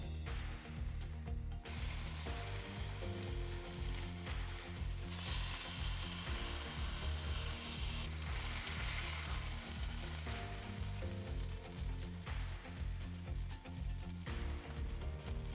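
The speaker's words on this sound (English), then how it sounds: "let it brown up, keep that surface area as much as you can on the bottom of the pan" Beef browning in a pan for a braise, a loud continuous sizzle and crackle of frying meat close up, with scraping and pressing sounds against the pan bottom and no talk.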